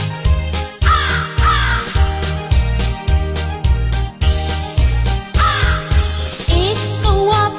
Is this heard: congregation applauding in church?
no